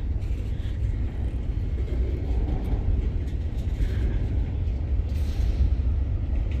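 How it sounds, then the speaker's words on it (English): A northbound freight train rolls past at night, a steady, loud low rumble of wheels and cars filling the whole stretch without letup. "This guy's going northbound."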